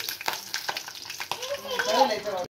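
Egg pakodas frying in hot oil and being turned, a close, continuous crackling sizzle broken by clicks and stirring, with some talk over it.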